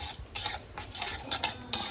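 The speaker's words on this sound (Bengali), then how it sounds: "একটা শুকনো খোলায় ডালটা একটু ভেজে নিচ্ছি" Mung dal dry-roasts in an oil-free pan while a metal utensil stirs it, producing close scraping, rattling grains and sharp clinks against the pan in quick irregular bursts, without voices.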